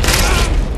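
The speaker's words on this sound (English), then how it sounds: "this one has explosions" A loud, booming explosion from the video game Happy Wheels, a short dense blast filling the whole clip with rumbling low-end roar.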